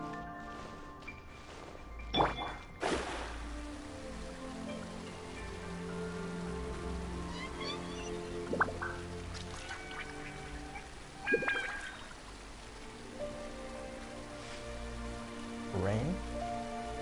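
Heavy rain falling in the game Genshin Impact, a steady hiss of downpour with scattered droplet splashes, beneath sustained game music and occasional sharp effect sounds.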